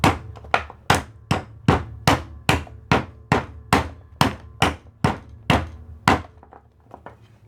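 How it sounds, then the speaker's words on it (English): Wooden dice tower pieces are tapped into place with a hand hammer or mallet: about fifteen sharp, close wooden knocks in an even rhythm, roughly two or three per second, with no talking. "a little bit of hand hammer action there, or you can use a mallet if you so choose"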